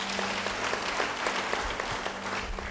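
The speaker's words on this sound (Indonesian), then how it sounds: "Beri tepuk tangan." Congregation applauding at a church service, a steady wash of clapping hands held at an even level throughout, with a low hum running underneath.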